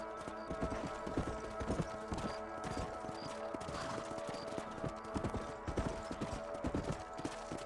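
Horse hooves clip-clop steadily in Red Dead Redemption, a continuous run of close, evenly paced hoofbeats over the whole stretch with busy game sound layered in.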